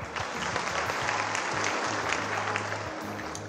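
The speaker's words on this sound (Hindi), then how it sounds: "और एक बार अच्छे से ताली बजाओ।" An audience at a Hindi poetry recital by poet Manika Dubey claps steadily and densely throughout, with no break in the applause.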